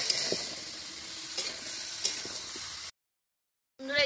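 Bottle gourd frying in mustard paste in a pan gives a steady close sizzle with occasional stirring scrapes, then a brief silence before the hiss resumes.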